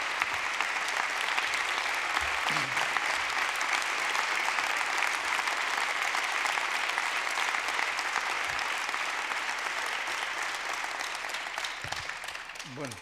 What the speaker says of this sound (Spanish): Un fuerte aplauso fuertísimo para nuestro candidato a diputado general de Bizkaia